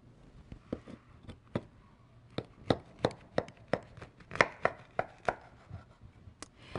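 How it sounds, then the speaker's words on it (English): A knife chops through oranges on a cutting board, about a dozen sharp thuds spaced unevenly at first and then coming quickly, close by and clear with no talking. "Then, I will cut them in half."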